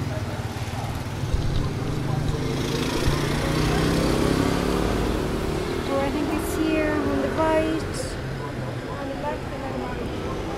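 Motorbikes and traffic rumble along a street in Kuala Lumpur, an engine swelling as it passes close by, with people talking over the road noise.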